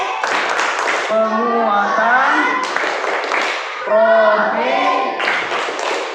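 A classroom of students stands and performs the Tepuk P5 clapping chant, voices chanting together in sing-song unison, punctuated by bursts of group clapping, loud and close throughout.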